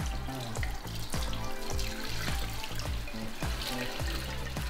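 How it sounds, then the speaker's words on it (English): Homemade bun bo hue broth poured through a fine mesh strainer lined with muslin cloth, a steady close splashing and trickling stream of liquid with no talk. "I've got a fine mesh strainer, but I've also put some muslin cloth in there just to really strain out all the little fine"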